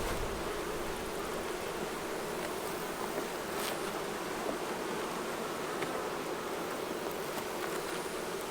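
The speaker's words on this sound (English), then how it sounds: "I got little bees coming out." A dense, steady hum of bees emerging from a hive's brood frame, a continuous close buzzing swarm with no pauses and no voices.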